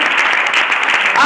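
A church congregation applauds loudly and steadily throughout the short moment, a dense wash of clapping that fills the room without pause.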